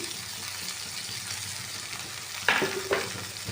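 Cut tomatoes drop into a pan of sizzling roasted onions and green chilies for an ice apple chicken gravy; a steady close frying hiss breaks into two louder bursts near the end as the tomatoes land.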